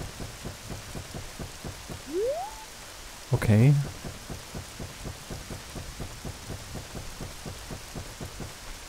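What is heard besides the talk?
rain in video game Zelda Ocarina of Time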